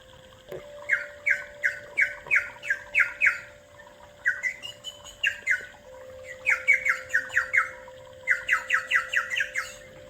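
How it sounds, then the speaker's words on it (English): Rapid bursts of shrill, chirping whistles from a bird whistle instrument in repeated groups, loud and close, over a faint steady hum. "The bird whistle maker."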